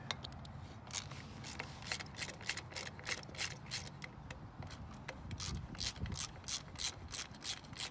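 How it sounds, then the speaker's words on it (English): A 13mm socket wrench ratchets as it loosens a hinge bolt, sounding as a steady series of close, sharp metallic clicks in quick bursts, with faint rubbing and scraping between them. "to do that you need a 13mm socket, and then a Allen wrench"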